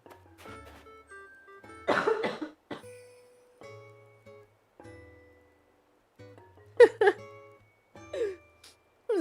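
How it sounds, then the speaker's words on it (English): Several separate coughs and throat-clearing bursts from a woman, close and fairly loud, spread across a quiet stretch with soft background tones between them. "Meanwhile, I'm like coughing"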